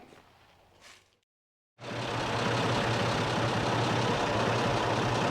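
A 1940 Oliver 70 Row Crop tractor that sat buried in a barn for three years, its engine starting after a brief quiet gap and then running steadily and loudly with a low, rough, continuous drone.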